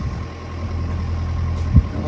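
A sailboat's inboard engine idles at the start of a morning passage off Turkey, a steady low rumble with a faint mechanical vibration and one brief thump near the end.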